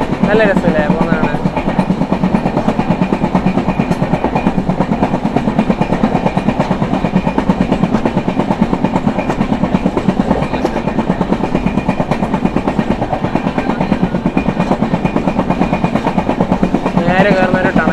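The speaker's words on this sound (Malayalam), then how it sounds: "ട്രെയിൻ വളഞ്ഞു പോകുന്നുണ്ടത്." An express train in sleeper class on the Konkan route runs steadily along the tracks while rounding a curve, a continuous loud rumble with wheel clatter throughout, with people talking over it.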